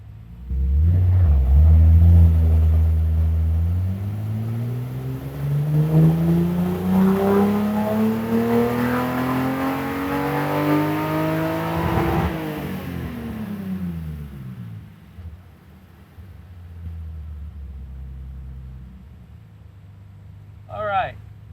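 BMW E30 engine on a dyno during a ramp pull, revving steadily up through the range to a loud peak near 6,000 RPM, then dropping off sharply and winding down to a low idle.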